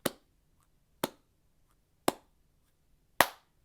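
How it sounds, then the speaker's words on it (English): Four single cupped-hand claps, evenly spaced about one second apart, each a crisp hollow pop with a short decay, close and clear against a quiet room with no voices. "We're going to try cupped hand clap."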